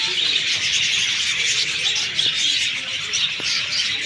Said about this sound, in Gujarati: આવાજ સુનો लव बर्ड जो લવ બર્ડ છે